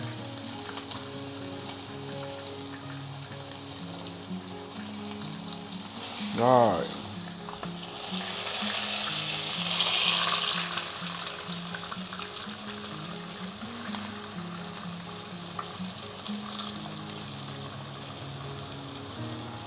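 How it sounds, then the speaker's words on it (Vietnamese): A piece of pork with its skin on fries in a pan with a steady, dense sizzle throughout. A brief spoken word and some handling noises briefly rise above it. "Chiên nốt 2 mặt, mỗi mặt 30 giây."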